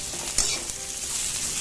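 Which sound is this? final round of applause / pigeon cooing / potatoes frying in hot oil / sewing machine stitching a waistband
potatoes frying in hot oil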